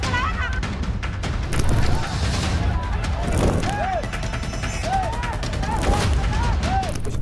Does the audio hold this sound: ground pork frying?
no